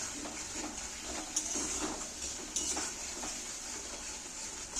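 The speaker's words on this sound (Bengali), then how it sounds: "এইবার আমি ভালো করে কষিয়ে নেব" Tomato paste, salt and spices sautéed in a pan, heard as a soft, continuous sizzle with light stirring scrapes and a couple of sharper utensil taps, fairly quiet and close.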